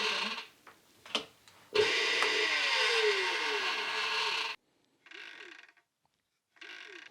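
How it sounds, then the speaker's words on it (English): A Kugoo Kirin S4 electric scooter whose overlong, loose rear-light cable above the fender rubs the tire: a close, loud whirring scrape that climbs in pitch for a few seconds, then returns in two shorter bursts, with no talk. "that noise was here because the cable that runs above the fender into the rear light is too long, loose, and touching the tire"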